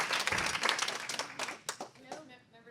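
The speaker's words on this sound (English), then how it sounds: "Everybody, let's give a big round of applause to Emmy award-winning producer Jackie." A live audience claps for an Emmy award-winning producer at a startup pitch event. The applause is brief and fairly faint, then fades into scattered claps.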